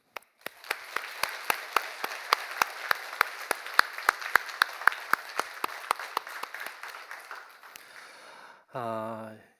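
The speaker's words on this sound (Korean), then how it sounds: "하나님께 박수." A church congregation claps in unison at an anniversary Sunday service, producing sharp, evenly spaced claps in a brisk steady rhythm for about eight seconds. The clapping then fades and a brief voice follows.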